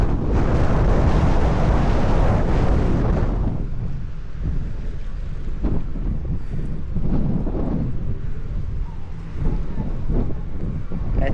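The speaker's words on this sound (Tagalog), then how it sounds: "Lakas ang hangin, no?" Strong wind roars loudly and steadily past the microphone near a train station during stormy New Zealand weather, with heavy buffeting at first, then gusts that swell and ease over a low rumble.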